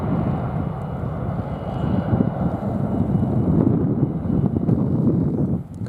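An easyJet airliner bound for Glasgow roars past on a windy afternoon at London Luton, a loud sustained jet engine rumble with wind buffeting the microphone and no voices.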